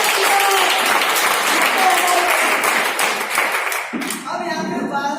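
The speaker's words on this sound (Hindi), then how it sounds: "इसके लिए ताली मेरे पास जोरदार सर।" Loud audience applause from a crowd at a business meeting in Varanasi, Uttar Pradesh, sustained clapping that thins out near the end.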